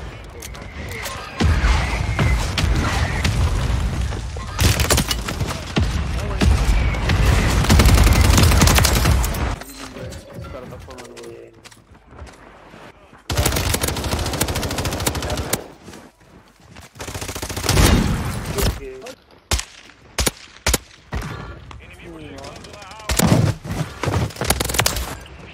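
Sniper rifle gunshots in Warzone, a video game: loud bursts of gunfire and booms, with several sharp separate reports later on, while voices talk over part of it.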